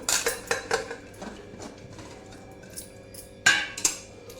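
Pots, pans and utensils clatter while ingredients such as vegetables, spices and butter for pav bhaji go into a pressure cooker, with sharp metallic clinks in quick bursts at the start, a quieter gap, then two more loud clangs near the end.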